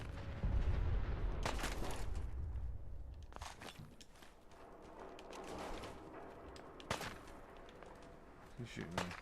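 Scattered gunshots ring out in Fallout 4, faint and distant-sounding, as sharp isolated cracks spaced a few seconds apart over a low rumbling background with some thuds.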